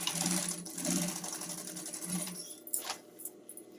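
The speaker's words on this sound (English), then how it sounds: "it's a very professional detail to sew them twice." A sewing machine stitches a string backpack from Splash fabric, fast steady whirring runs for a couple of seconds, then stops with a few clicks and handling sounds, no talking.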